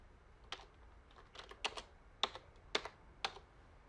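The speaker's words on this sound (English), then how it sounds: "And now we're typing." Keys clacking on a computer keyboard in the FMV game Telling Lies, a handful of crisp, separate keystrokes in short bursts, close and fairly quiet against a faint hum, with no voices.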